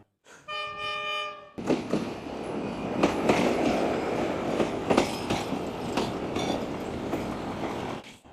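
A Cambodian bamboo train running on rails, a horn-like tonal blast at the start followed by loud, steady rumbling and clattering with sharp metallic clanks and squeals as it rolls close by.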